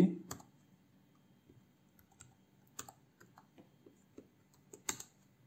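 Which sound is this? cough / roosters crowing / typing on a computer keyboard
typing on a computer keyboard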